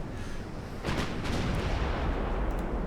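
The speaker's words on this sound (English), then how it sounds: "a torpedo hit" A torpedo strikes a heavy cruiser in a naval warfare game, setting off a deep, booming explosion that swells and rumbles on, loud and heavy, with a softer rumble before it.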